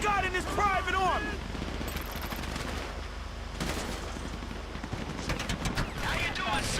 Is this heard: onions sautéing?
no